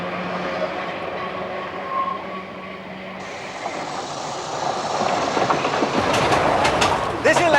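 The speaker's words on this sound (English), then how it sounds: "This electric tram was built for the tourists in September 1893 between Douglas and Ramsey" An 1893 electric tram on the Isle of Man, running between Douglas and Ramsey, rumbles and clatters along its rails with a steady low roll and growing rattles and squeals, under a narrating voice.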